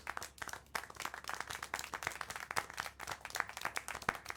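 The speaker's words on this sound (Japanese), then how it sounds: "Clap! 拍手。" Quiet, steady clapping from a small group in the video game Syberia: The World Before, a dense patter of hand claps continuing without pause, with no voices.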